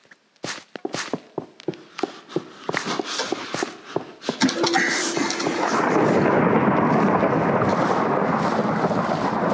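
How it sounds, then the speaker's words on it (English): Thunderstorm in Minecraft: a series of sharp thumps and footstep-like knocks gives way to a loud crack of thunder, then a steady rush of rain that fills the rest. "I can hear the thunderstorm."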